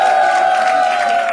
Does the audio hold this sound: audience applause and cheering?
yes